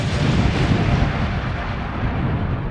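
A dramatic explosion sound effect portraying the Big Bang, heard as a deep, sustained rumbling roar that stays loud throughout and tails off slightly at the end.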